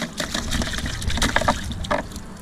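Water gushes and splashes continuously as a crew washes parts from a Superstock speedway race car. The spray is close and busy, with irregular splatters throughout.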